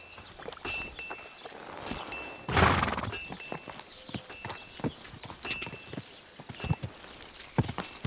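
A horse's hooves clop in quick rhythmic beats in Kingdom Come Deliverance 2, with a loud whinny partway through and the hoofbeats continuing close and steady afterward.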